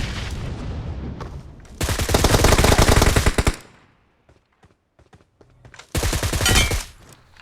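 Rapid automatic gunfire in a battle royale video game fight: two dense, loud bursts of sustained firing separated by a quieter gap of scattered single shots, close and without talk.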